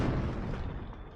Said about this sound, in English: Nice mortar hit.